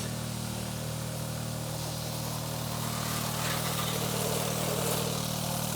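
A Cheap Shot pressure washer's small engine runs steadily at a constant drone, close and continuous with a broad hiss of spray and wind, no voices.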